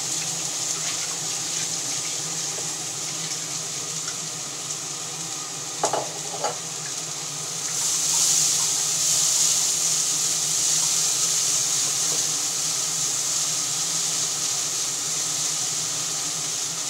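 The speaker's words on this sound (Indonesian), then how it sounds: "Ini ibu tumis sayur togenya ya, karena ibu itu paling suka sayur toge temen ya." Bean sprouts stir-fried in a pan in a home kitchen, a steady hiss of sizzling throughout with a couple of brief scraping clatters midway and the sizzle swelling louder in the second half.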